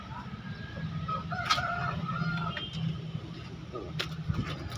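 Bangkok chickens crow and cluck at the Daya chicken market in Makassar. Several roosters call out over a busy, steady background of clucking and low murmuring voices.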